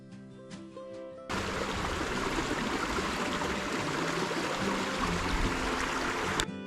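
Water rushes steadily over rocks in a creek on the Escondido Canyon trail near Los Angeles, a loud continuous wash that starts abruptly and holds with no voices.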